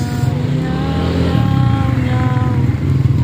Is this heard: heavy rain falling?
no